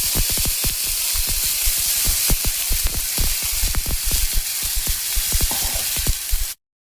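Ground poppy seed paste hits hot mustard oil with nigella seeds in a pan, giving a loud, steady sizzle crowded with sharp crackling pops that cuts off abruptly.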